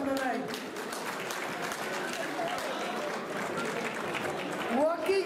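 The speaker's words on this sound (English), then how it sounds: "Round of applause for Mahir Hassan, everyone, for Crescent MMA" Crowd applause at a fight night, steady dense clapping and cheering filling the space, with voices over it and a short swell at the end.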